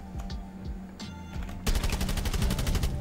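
Gunfire in Rainbow Six Siege: a few scattered shots and clicks, then a sudden, loud burst of rapid automatic fire that rattles on steadily to the end.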